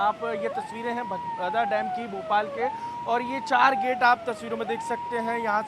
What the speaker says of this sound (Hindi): लगातार सायरन की आवाज़ आप मेरे पीछे सुन सकते हैं